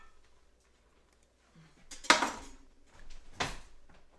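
A spoon clatters onto a kitchen floor during cornbread cooking, a sharp metallic clang followed by a second bounce about a second later, close and otherwise in near silence.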